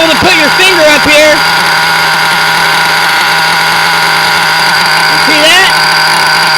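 A Novarossi 9886 nitro model engine idling, run rich, holds a steady, loud, close buzzing drone throughout, with brief speech over it at the start and near the end.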